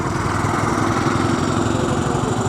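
A motorcycle engine runs steadily nearby, a continuous close droning hum with no breaks or revving, heard alone without talk.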